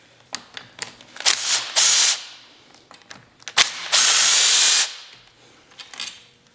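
A YZ125 front brake caliper comes off as its two 12mm bolts are undone, with two long bursts of pneumatic impact tool whirring among short clicks and metallic clatter close by.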